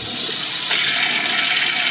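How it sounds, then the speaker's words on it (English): A toilet flushes long and loud, rushing water roaring continuously and swelling partway through, with no voices. "That was a long flush."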